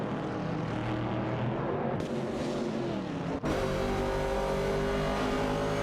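A 1969 Chevrolet Camaro and a 1970 Pontiac Firebird race in a video game. Loud, continuous engine roar rises and falls, with abrupt shifts in pitch and a sudden change as the cars pass, and no voices.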